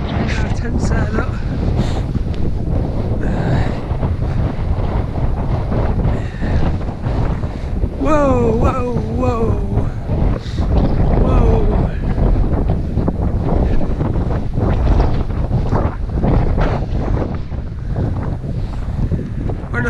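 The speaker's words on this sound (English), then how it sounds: "Windy, windy, very windy." Strong wind buffets the microphone throughout, a constant loud roar with gusts on Kinder Scout near Mermaid's Pool, and a voice briefly speaks partway through.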